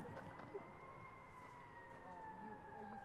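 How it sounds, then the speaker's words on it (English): A faint, distant emergency siren wails in a long steady tone near a sled dog kennel with puppies, heard alone without talk. "The siren just set him off."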